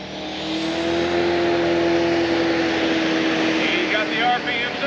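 A new pulling tractor in the 10,000 lb Pro class revs hard at an Illinois tractor pull, its engine holding a loud sustained whine that swells steadily and stays strong throughout, heard at a distance over crowd ambience.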